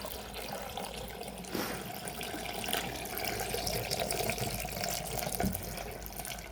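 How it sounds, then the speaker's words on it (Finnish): Water pours from a watering can into raised planting beds inside a greenhouse, a continuous splashing trickle lasting several seconds, with a couple of brief knocks and no voices. "Mä luulen, että mä kannan noihin nyt jo vettä, vaikka siellä ei olekaan taimia."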